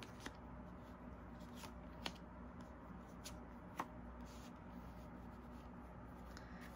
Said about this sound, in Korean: 같이 카드를 섞고 그 사람의 속마음을 같이 들여다보겠습니다